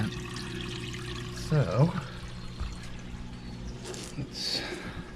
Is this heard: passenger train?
no